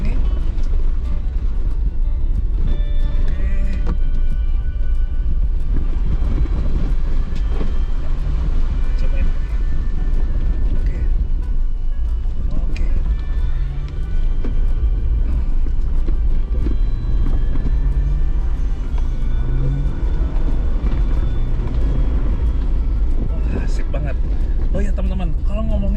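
A 2021 Jeep Wrangler JL Rubicon accelerates over a dirt off-road track, its engine a steady loud drone with rising revs and rough rumbling, while someone talks over the noise.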